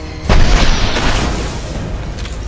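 A rocket launcher blast in the Mass Effect 2 video game booms loudly once, followed by a rumbling decay that fades over a couple of seconds, with no voices.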